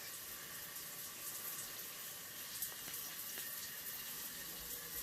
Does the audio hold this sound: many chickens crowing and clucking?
no